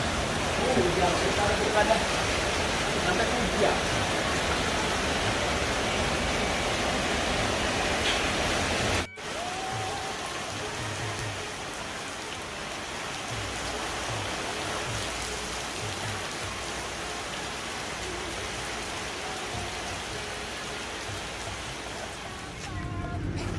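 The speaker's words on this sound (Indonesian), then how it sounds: "Tiba-tiba hujan." Sudden rain falling outdoors, a steady broadband hiss that runs throughout, briefly dropping after a cut then continuing at the same level, with faint voices underneath.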